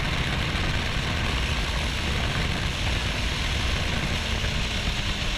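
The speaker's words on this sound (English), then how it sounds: "That thing was certainly Ducati. You can hear it." Ducati motorcycle engine roaring steadily on a race track during a track day at Auto Club Speedway, a dense continuous engine drone with heavy wind and road noise throughout, no clear pass-by swell.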